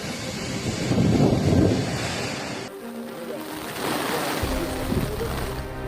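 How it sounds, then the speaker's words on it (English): Hurricane-driven sea waves surge toward the shore off eastern Cuba, a broad roaring wash of surf and wind that swells, eases briefly, then builds again, steady and fairly close. "the sea almost turned into a continuous wall of water pushing toward the shore"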